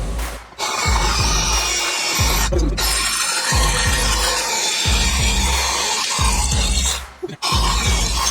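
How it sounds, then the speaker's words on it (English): A drill grinds through a transmission bell housing in loud, rough repeated strokes, with rhythmic ratcheting pulses and brief pauses between bursts, close up. "So it's going to drill straight through this ridge."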